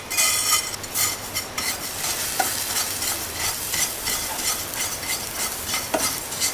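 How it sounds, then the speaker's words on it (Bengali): Black sesame seeds fry and pop in a pan, a busy crackling sizzle with repeated scraping stirs and occasional sharp clicks, close and steady throughout. "এখন তিলটাকে ভেজে নিব।"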